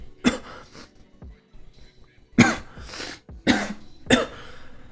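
Several harsh coughs in separate bursts, loud and close, with quieter throaty sounds and breaths between them.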